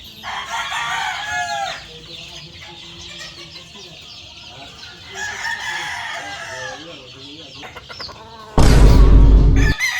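Early bird chickens being fed on a Filipino farm, with many hens clucking and squawking in overlapping bursts, a rooster-like call, and a sudden loud rustling burst near the end.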